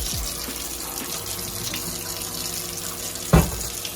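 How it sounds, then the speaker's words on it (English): Water runs steadily from a kitchen tap into a sink for washing dishes, a continuous close hiss with a sharp clunk near the end. "We're gonna go ahead and get this water going for"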